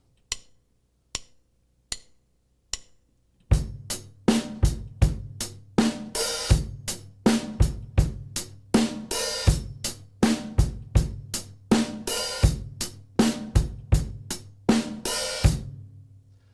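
A rock drum beat with an open hi-hat and bass drum starts with four sparse single hits. A steady loud groove follows, with punchy kicks, sizzling open hi-hat washes and regular accents, played close with no talk.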